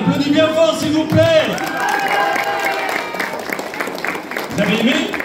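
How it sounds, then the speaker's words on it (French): Audience applause at the Japan Mania 2025 cosplay contest, a wash of clapping and crowd noise running beneath a voice and music. "On l'applaudit bien fort, s'il vous plaît."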